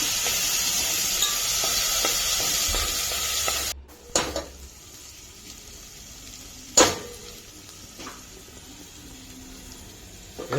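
Ground whole-spice masala paste sizzles loudly in a hot pan for a village chicken curry, a dense continuous hiss that cuts off abruptly, followed by a few sharp clinks of a spoon against the pan in quieter intervals.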